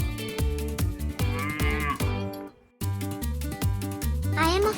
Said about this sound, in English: That's right, I am a cow.